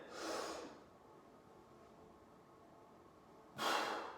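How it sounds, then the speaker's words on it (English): Deep breath in before a bench press rep, two sharp, close airy breaths, one at the start and another near the end, with quiet between them. "So I'm going to breathe in."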